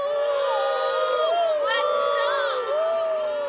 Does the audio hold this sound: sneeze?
no